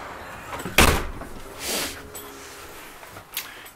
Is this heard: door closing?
yes